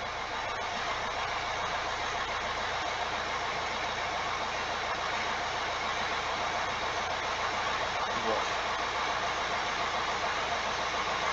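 A Mini Cooper diesel engine runs steadily at idle, a close, even rumble with a faint knocking texture that holds at the same level throughout.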